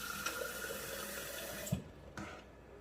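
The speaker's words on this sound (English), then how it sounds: "I'm just going to cover the pasta with some water, just plain old tap water" Plain tap water running steadily into a pot of pasta, a continuous splashing rush that stops abruptly, followed by a brief faint trickle.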